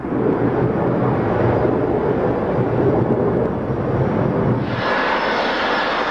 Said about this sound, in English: Four attempts later, bringing the plane in within feet of the perimeter fence, he finally touched down.